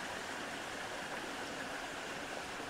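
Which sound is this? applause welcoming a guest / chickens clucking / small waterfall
small waterfall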